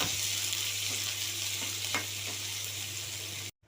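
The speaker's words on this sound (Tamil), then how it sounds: "வெங்காயத்தை சேர்த்துக்கலாம். நல்லா வதக்கிக்கலாம்." Onion, curry leaves and green chilli sautéing in oil in a pan, a constant bright sizzle with a low hum beneath and a few soft stirring clicks, cutting off abruptly at the end.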